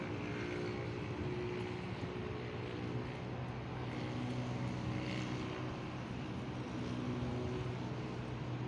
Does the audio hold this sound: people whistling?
no